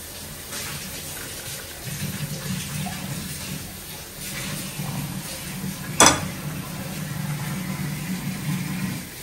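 Liquid pours into a glass indoors, a steady trickling splash lasting several seconds with a sharp clink near the middle.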